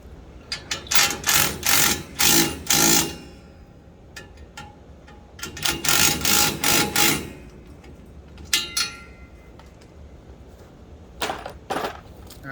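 Ratcheting wrench cranking down the top and bottom nuts on a mower swing arm, bursts of quick metallic clicks in several short runs with pauses between, close and fairly loud with no talking.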